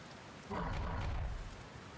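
Rain pours in the video game Kingdom, with a low thunder rumble swelling in after a brief quiet moment, then settling into a steady downpour, fairly soft overall.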